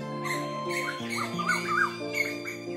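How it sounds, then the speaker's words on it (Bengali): Several birds call and chirp in a varied, overlapping chorus on a cloudy, overcast village morning, steady and moderately loud, with no talking. "দেখো পাখিগুলো কি সুন্দর ডাকছে না"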